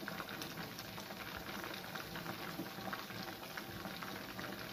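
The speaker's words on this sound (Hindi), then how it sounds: "उसके बाद मैं फ्राई कर रही हूँ" Fish coated in salt, fish masala and gram flour sizzles in hot oil, a soft, steady crackling hiss that goes on without a break, fairly faint.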